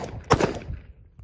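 A single sharp shot from a Sig P365 pistol fitted with a Parker Mount Machine compensator and firing 115 grain ammunition, a loud close crack with a quick decaying tail, followed by a faint click.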